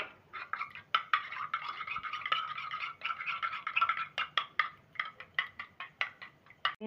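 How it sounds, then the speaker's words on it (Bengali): Egg with salt and pepper is beaten in a bowl, with quick, close, rapid clinking strokes in a continuous run that breaks into separate, spaced beats toward the end. "এবার ডিমের মধ্যে সামান্য একটু নুন দেব গোলমরিচের গুঁড়ো ডিমটাকে ভালোভাবে ফেটিয়ে নেবো"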